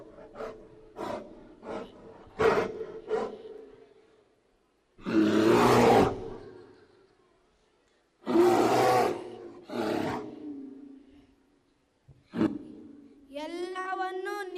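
In a school skit, a performer in a bear role gives loud, throaty roars in several long bursts between quieter grunts and short sounds, with stage talk around them.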